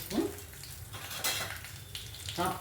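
Fenugreek seeds dropped into hot oil in a pan for an okra tamarind stew, giving a close, continuous crackling sizzle with light clinks of a utensil against the pan.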